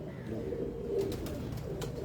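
A trained flying pigeon coos softly and close by, a low repeated throaty call over a faint background hum, with no speech.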